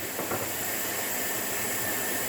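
Onions with ground ginger paste fry in oil, giving a constant, even, fairly quiet hiss and crackle with no breaks and no talking.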